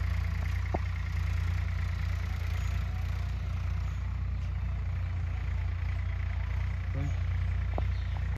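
A Swaraj tractor pulling a plough while sowing wheat chugs steadily nearby, a constant low, throbbing rumble, with a few faint distant voices and brief clicks above it.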